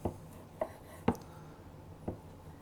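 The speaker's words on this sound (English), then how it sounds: "We're just simply going to cut this into manageable sizes for the grinder here." A knife cuts beef chuck on a board into chunks for a meat grinder, four distinct knocks spaced unevenly at close range with quiet gaps between.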